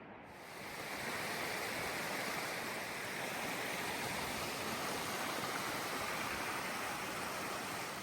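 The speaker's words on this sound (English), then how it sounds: "this is another view of that waterfall that was down at the portal area" A waterfall near the Mount Whitney Portal in California rushes with a steady, dense roar that swells in over the first second and then holds, continuous and loud, with no voices.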